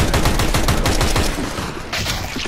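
Loud, dense gunfire in Counter-Strike: Global Offensive, rapid overlapping shots and bursts in close succession, continuous for a couple of seconds, then a brief lull before more firing, with no talking.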